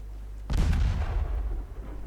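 Naval gunfire in the warship strategy game Ultimate Admiral Dreadnoughts: a single loud, close boom erupts after a low rumble, then rolls and decays with a rumbling tail, with no talking.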